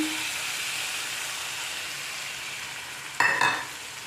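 Fish curry with potatoes simmering in a pan gives a steady soft sizzle while being stirred, with a brief louder scrape and clink of the spoon against the pan near the end, close by and with no talking.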